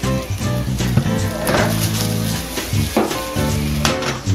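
Sardines fry in olive oil for pasta aglio olio, giving a loud, continuous sizzle close by, with brief surges and clattering bursts from stirring or tossing in the pan.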